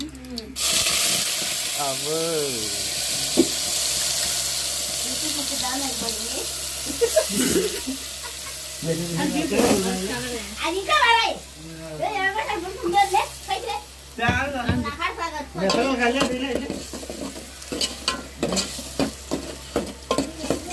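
Onion and green chili paste frying in hot oil in a pan for a fish curry, a steady sizzle with stirring scrapes running throughout while someone talks over it.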